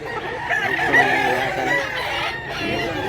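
A young rooster, a stag, crows once up close, a loud strained call lasting a couple of seconds over faint background noise.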